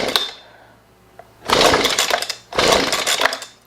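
Husqvarna 125b leaf blower being pull-started on full choke with a primed engine: two loud, rasping cord pulls about a second each, separated by quiet, with a faint earlier pull at the start. The engine does not fire.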